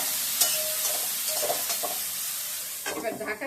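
Potato and eggplant pieces are stirred in a frying pan, giving a close, bright sizzle with repeated scraping and clattering strokes that grow busier near the end.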